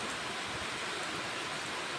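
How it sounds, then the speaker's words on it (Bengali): Steady rain falls over farmland in cool, wet weather, a continuous even hiss with no talk. "বর্তমানে যে বৃষ্টি পড়তেছে"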